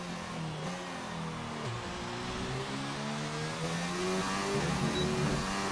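An F1 race car engine in the video game F1 2019, racing in Hungary near Budapest, drones steadily and its pitch climbs as it accelerates through a corner, with no talk over it.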